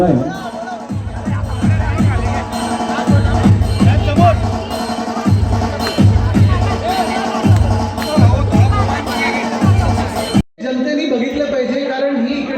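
A crowd of Shiv Sena party workers gathers at a rally in Jalgaon, making a dense, continuous babble of many voices and noise with a brief dip near the end.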